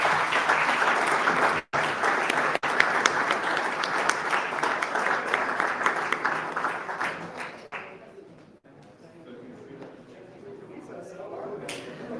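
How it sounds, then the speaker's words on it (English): Audience applause at a Solana Breakout demo day event in Berlin, a dense steady clapping that fills most of the stretch before tapering into quieter room noise near the end. "big round of applause, and thank you so much"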